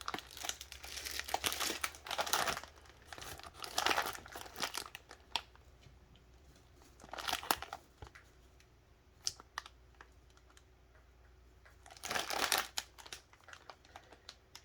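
Plastic packaging from Taiwanese beef ramen crinkles and crackles in bursts, loud and close, with quieter pauses between handlings and no talking.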